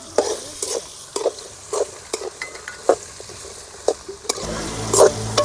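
Onions, grated carrot and vegetables for foxtail millet upma sauté in a pan, a soft sizzle broken by repeated scrapes and taps of a spoon stirring, with a louder sizzle near the end.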